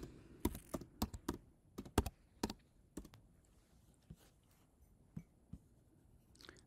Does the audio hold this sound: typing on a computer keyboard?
yes